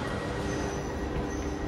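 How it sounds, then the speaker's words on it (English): A train pulls into a station platform in Italy, its steady rumble and faint wheel squeal filling a short, continuous stretch. "And that is our train."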